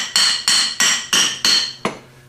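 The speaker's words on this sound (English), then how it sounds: "Tap it in place." A hammer taps a bushing into a lever housing on a 37MT starter, six sharp metallic strikes at an even rhythm, loud and close with ringing decay, no talk.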